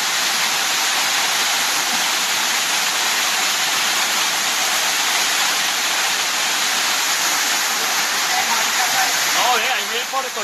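Floodwater rushes down a street in Manizales, Colombia, a loud, steady roar of churning water that fills the whole scene without letup.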